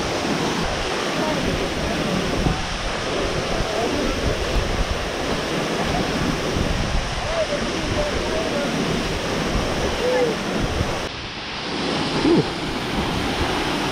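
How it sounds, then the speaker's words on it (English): A waterfall in Colorado's South San Juan Wilderness gives off a steady, dense rushing roar that stays loud and continuous throughout, with slight shifts in texture but no pauses. "Pretty cool waterfall"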